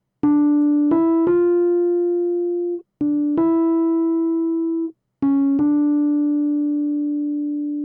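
A piano melody line from St. James Infirmary of a handful of clear sustained notes moving mostly stepwise, each ringing out, with two short pauses between groups.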